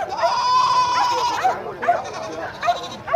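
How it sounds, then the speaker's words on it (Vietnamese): A large goat bleats repeatedly at a busy outdoor livestock market in northwest Vietnam, loud wavering cries close by, one long call followed by several shorter ones, with people talking over them. "Đây cũng là một con dê to nữa mà, đó dê rất là to luôn."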